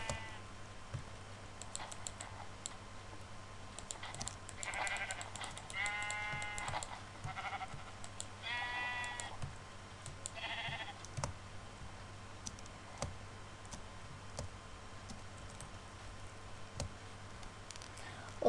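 Minecraft sheep let out several short bleats in bursts amid quiet clicking and tapping, fairly faint, with a low steady hum underneath and no talking.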